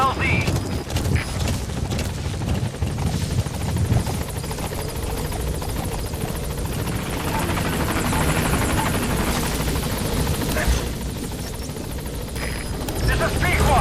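Helicopter rotor chop from the Pequod transport helicopter arriving at a landing zone in Metal Gear Solid V: The Phantom Pain, a steady loud thudding drone throughout with a voice talking over it.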